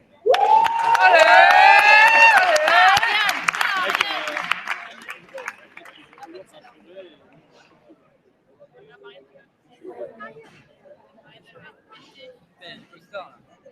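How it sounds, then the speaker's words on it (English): An audience erupts in loud cheering and applause for a team, a burst of high shouts and claps in the first few seconds that quickly dies away into scattered quieter voices and a few claps. "So I want a big applause for the real life team!"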